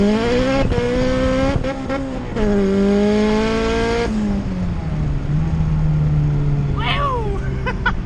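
Car with a B20V engine and boost controller accelerating hard during a pull, engine note climbing loudly through gears with clear drops at shifts, close and continuous, followed by a brief high squeal.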